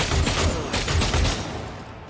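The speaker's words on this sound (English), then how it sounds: "let's shoot the shuriken gun" In Rogue Trader, a shuriken gun lets off a quick string of sharp snapping shots at an even rhythm, then trails off into a fading clatter.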